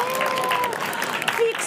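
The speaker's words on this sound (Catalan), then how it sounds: "Un fort aplaudiment!" A burst of applause from an audience after a children's story on a Sant Jordi special program, steady clapping that fills the space for a couple of seconds.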